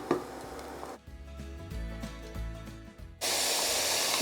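Finely chopped tomatoes hitting a hot pan of browned masala, a sudden loud hiss and sizzle that bursts in near the end after a stretch of quiet background music and then holds steady.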